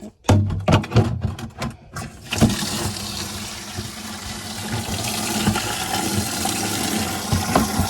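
A watering can is filled from a tap: a few knocks and clunks of handling, then water gushes in, rising to a loud, steady rush that keeps going to the end, heard close with no talk.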